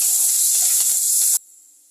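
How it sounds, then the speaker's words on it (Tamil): Onions and a sprig of curry leaves sizzling in hot oil in a pan, a steady loud hiss with faint crackles that cuts off abruptly near the end. "ஒரு கொத்து கருவேப்பிலை வெங்காயம் ரெண்டு வெங்காயம் வச்சுருக்கோம் கொஞ்சம் நேரம் வதக்கி வதக்கிக்கலாம்"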